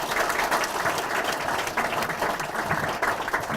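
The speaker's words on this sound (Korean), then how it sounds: "오늘 바쁘신 가운데도 저희 당력을 찾아주신 서청원 의원을 큰 박수로 맞이하면서 인사" A crowd at a political party gathering in Gyeongju applauds to welcome a visiting lawmaker, dense continuous clapping filling the room throughout.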